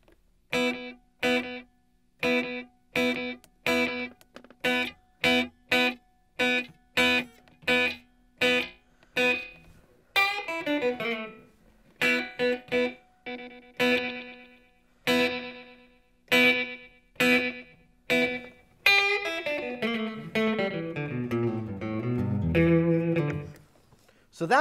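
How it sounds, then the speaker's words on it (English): Electric guitar played through a delay pedal set to a short slapback: a run of plucked single notes with clean, sharply spaced attacks, then sustained notes and descending bends with echoing tails, close and unaccompanied. "that first is called a slapback. That's where it doesn't even sound like an echo almost because the delay time's happening so close to the note"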